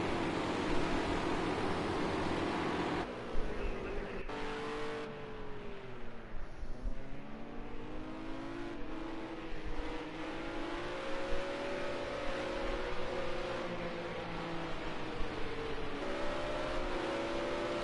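Race cars lapping the Dubai Autodrome short circuit during a World Sprint Cup round, engines droning and revving continuously with rising and falling pitch as cars pass, heavy wind-like noise over everything.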